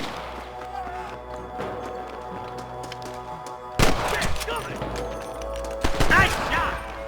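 Western-era gunfire in Red Dead Redemption, heavy volleys erupting suddenly after a quieter stretch, loud and close amid battle noise.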